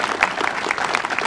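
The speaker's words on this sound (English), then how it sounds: "So give Kathy a round of applause" Brief applause from a crowd gathered at a memorial run event, dense clapping at moderate distance with no talk over it.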